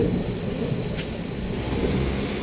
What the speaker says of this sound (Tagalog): Grabe, nakakatakot yung kidlat. Kumukulog.